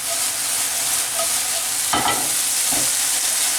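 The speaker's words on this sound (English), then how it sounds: "So cook it for 1 minute, not much longer, because I don't want you to burn the honey and the mustard." Chicken sizzling steadily in a pan with a honey mustard glaze, a constant close frying hiss with a couple of brief stirring scrapes partway through.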